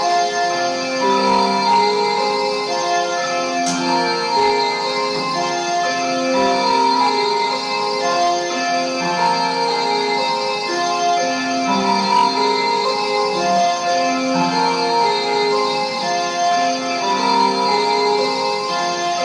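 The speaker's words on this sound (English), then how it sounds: "he licensed his discoveries to Yamaha, and they brought out the DX7 keyboard" Yamaha DX7 FM synthesizer music in an era synth-pop style, with steady layered bright tones and rhythmic chord patterns, played loud and continuous with no voices.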